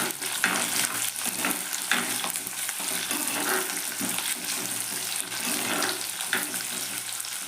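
Ginger, garlic, green chilli and chopped onion sautéing in a pan, with a continuous hiss of frying and scattered scraping clicks as the mixture is stirred, close and steady throughout.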